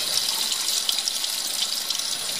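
Warm water runs steadily from a tap, a continuous close hiss and splash that stays even throughout, with no voices.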